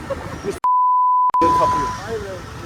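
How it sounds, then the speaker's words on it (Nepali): A long steady electronic beep tone plays, with a second beep continuing under low background noise and faint voices after it. "यो बिप हुन्छ"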